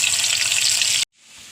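A dense, close hiss of onions frying in hot oil for tempering a fish curry, steady for about a second before cutting off abruptly and fading back in quietly.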